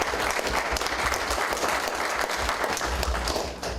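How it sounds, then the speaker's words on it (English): A veterans association audience applauds its executive committee at a meeting, producing a full, continuous wash of clapping from many hands at an even, loud level throughout. "Let's give them a nice round of applause."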